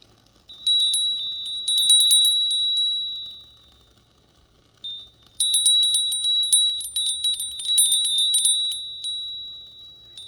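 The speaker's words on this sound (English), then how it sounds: "And then I have this right down here, this fairy bell." A small, high fairy bell rings in a clear, steady tinkling pattern across two bursts, with a quiet gap between them, in an otherwise silent room.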